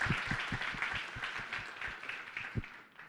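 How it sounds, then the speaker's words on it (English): Applause from an audience for the panelists at a discussion on in-country surgical camps and safe anaesthesia, a steady, moderately loud wash of clapping with a few sharper nearby claps standing out. "can we give a much better hand clap to our panelists?"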